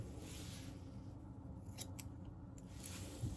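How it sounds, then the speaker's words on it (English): Scissors trimming the top of someone's own hair: a few quiet, crisp snips close by, separated by soft pauses, over a faint steady background hiss. "So right now I'm just trimming the top of my hair."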